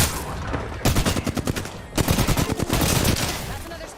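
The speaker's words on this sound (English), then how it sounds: "That's another squad shooting at us." Rapid automatic gunfire from an enemy squad in the battle royale game Apex Legends, two loud rattling bursts of close-range shots with a brief gap between them, with a player speaking over the shooting.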